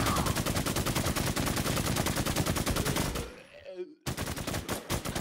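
Rapid automatic gunfire rattles almost nonstop while a boss is shot in a Warzone video game, with a brief pause near the end before the dense bursts resume loudly.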